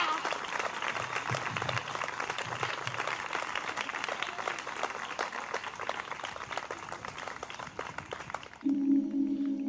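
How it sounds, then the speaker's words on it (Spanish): A crowd claps in steady, dense applause for several seconds at a town council presentation event in Burlada, ending as a low amplified tone cuts in. "Un fuerte aplauso para este hito que es histórico"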